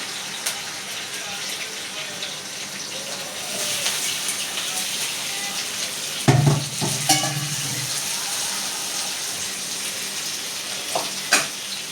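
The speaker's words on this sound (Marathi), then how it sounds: "आणि ही भाजी टाकायची आता त्याला." Vegetables for a fasting-day sabzi tip into a hot pan on a home stove, a short burst of sizzle and clatter around the middle, followed by steady frying and stirring under low background noise.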